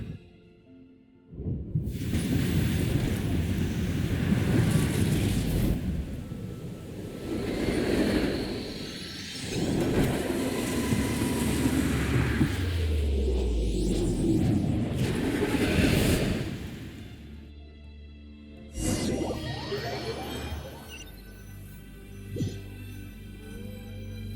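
A train crash-lands in Genshin Impact, with loud rumbling roars and grinding impacts swelling and dropping over about twenty seconds, then a sudden stop and quieter settling debris sounds.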